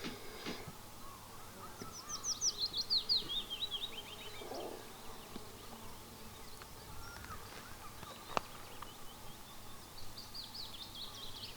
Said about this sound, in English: I think they were the mining bees because they seem to be going into the sandy soil.